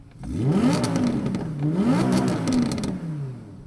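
A high-revving 2016 Audi R8 V10 plus engine climbs and falls through several sharp rev sweeps, loud and close, with a rasping exhaust note and no talking.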